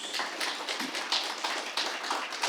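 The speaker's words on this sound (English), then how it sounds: "Can we give a round of applause as we close?" A dense, continuous round of applause from an audience at an authors forum, many hands clapping steadily and evenly at moderate loudness for the full stretch, with no voices.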